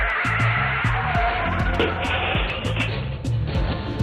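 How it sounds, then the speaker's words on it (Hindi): A dramatised motorcycle crash into a rickshaw: engine noise and squealing tires build into a string of sharp impact clatters and thuds over several seconds, loud and close. "रिजवान अपनी धुन में मोटरसाइकिल पर जा रहा था कि एक रिक्शे से उसकी टक्कर हो गई और वो जमीन पर गिर पड़ा"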